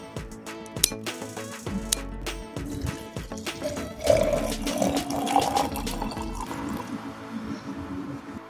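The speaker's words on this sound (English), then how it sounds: "pour boiling water over them" Boiling water is poured into a jar over chopped branches, with a gurgling, splashing stream and scattered clinks and knocks around it, close up and alone.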